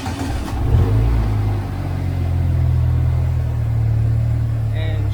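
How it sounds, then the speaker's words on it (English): A newly built engine in a GT6 car cranks and starts, then settles into a loud, close, steady rumbling idle that runs on for several seconds. "So I'm gonna start it here, let you see it running for a few seconds."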